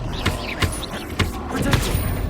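Magical blast spells Confringo and Bombarda going off in Hogwarts Legacy, a string of punchy booming bursts roughly every half second, over a steady game backdrop.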